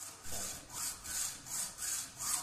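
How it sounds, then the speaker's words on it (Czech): A hand saw cuts wood along marked layout lines while a stirrup is being made, giving steady rasping strokes about every half second, close and clear with no talk. "řežu podle rysování 30 až 60 krát"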